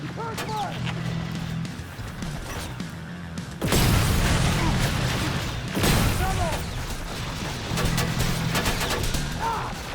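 Gunfire bursts from the Terminator: Resistance video game, with sudden loud volleys erupting twice amid combat noise, and shouted voices over the fighting.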